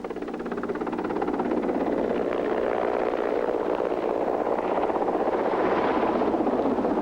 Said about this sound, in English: The helicopter was coming in to pick up a group of climbers. In order to land, it had to circle over base camp.